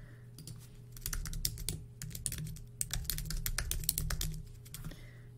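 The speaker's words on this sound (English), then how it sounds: "Sorry, I can't type when people are watching." Rapid, irregular key clicks of someone typing on a computer keyboard, close and fairly quiet over a low steady hum, with short pauses between bursts.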